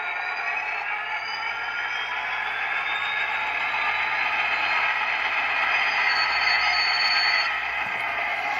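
A Walthers SD50 model locomotive with an ESU sound decoder runs at slow speed, giving a steady mechanical whir and clatter with faint tonal whines layered over it, continuous and close.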